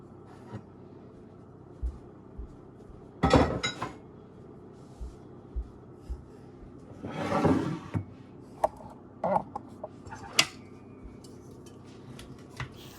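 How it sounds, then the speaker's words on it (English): Strawberries mashed in a pan, with scattered knocks and clinks of a utensil against the pan and louder squelching, scraping bursts between quieter moments. "I'm mashing them here so I won't have huge chunks"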